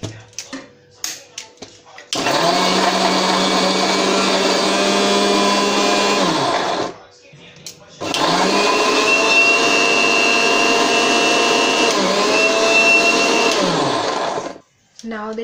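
A mixer grinder jar whirs loudly and steadily, grinding garlic and ginger into paste for a Mangalorean raw jackfruit stir fry, in two long bursts separated by a short pause, with brief clatter before it starts.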